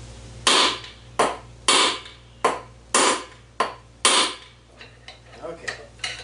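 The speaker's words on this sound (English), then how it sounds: "I use a brass hammer, so you pry up underneath the flywheel itself, give this thing a good whack" Sharp metallic whacks of a brass hammer on a lawn mower flywheel strike at a steady pace, about ten hits with ringing decays, the later blows lighter and quicker.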